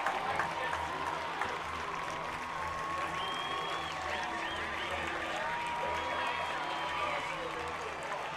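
Football crowd at a Grand Ledge vs DeWitt high school game cheering after a kick return, a steady loud roar with scattered clapping and shouts filling the whole stretch, with the announcer talking over it.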